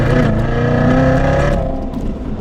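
A Chevrolet Corvette C7 Z06 pulls hard in second gear, its engine roaring loud and close with a rising, steady growl that eases slightly near the end.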